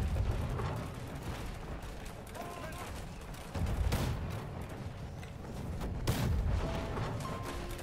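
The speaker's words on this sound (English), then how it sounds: "Like a friendly fire mistake with the mortar." Mortar shells landing in the video game Conqueror's Blade, a few heavy booming blasts over a steady rumbling battle backdrop, with two louder explosions spaced a few seconds apart.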